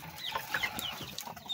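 Chickens in a rural provincial backyard clucking in short, irregular bursts at close to moderate distance, with several birds calling over one another and no talk.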